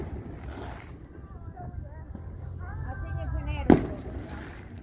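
Fireworks burst at a Halloween night gathering, a few muffled booms with one sharp louder crack near the end, under background chatter and crowd noise.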